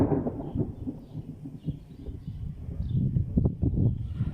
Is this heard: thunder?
yes